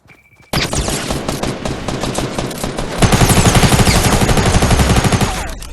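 Rapid SMG fire in Fortnite Battle Royale rattles out in a loud continuous stream of tightly spaced shots, then grows heavier and denser partway through before easing slightly at the end.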